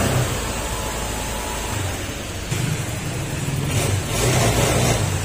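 A Honda Click scooter engine idles close by after a water pump replacement, a steady rough mechanical drone with slight rises in revs partway through.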